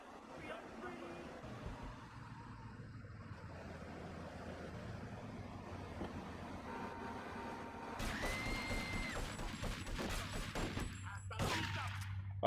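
Pistol shots in the video game GTA 3, a few sharp cracks that ring out late amid a low, busy game background, fairly faint and spread apart.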